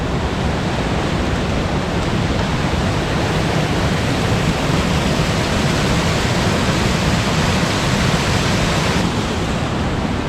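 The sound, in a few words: waterfall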